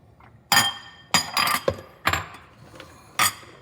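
Onions being mixed into sliced cucumbers in an airtight container in a home kitchen, a series of sharp clinks and knocks, about five distinct hits with brief rattles between, close and clear.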